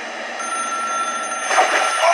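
A telephone rings with a steady, sustained electronic trill that swells slightly near the end, heard alone and fairly loud without talk.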